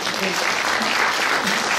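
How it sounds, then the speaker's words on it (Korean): Audience applause fills a ceremony hall, a dense burst of clapping from many people lasting under two seconds without speech. "여러분 박수 한번 주십시오"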